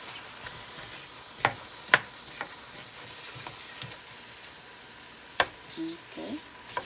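Ground beef browning in a pan, stirred with a utensil: a quiet, steady sizzle with a few sharp scrapes and clicks against the pan.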